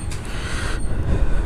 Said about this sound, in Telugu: ట్రైన్ చాలా స్లోగా వెళ్తుంది